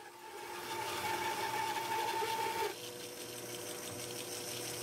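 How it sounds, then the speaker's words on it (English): A 3D-printed band saw cuts through five inches of white oak, a loud steady whirring drone with a tonal whine that drops abruptly partway through as the cut finishes, and the motor keeps running afterward. "make the first cut on the new table. This is 5 inches of white oak, and I cut through it no problem."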